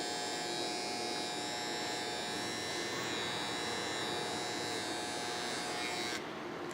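Electric hair clippers with the guard removed buzz continuously at close range while cutting a taper, a steady high-pitched motor whine with a strong tonal hum and no pauses until a slight change near the end; no one speaks.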